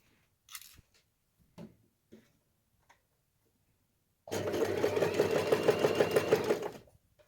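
A sewing machine stitches a water bottle carrier in one steady, close run lasting about two and a half seconds, preceded by a few faint handling clicks and taps in otherwise quiet surroundings.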